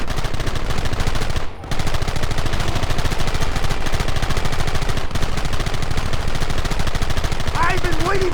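Continuous, dense gunfire in the Red Dead Redemption video game, rapid overlapping shots at close range forming an unbroken barrage with a brief gap, with a shouted voice near the end.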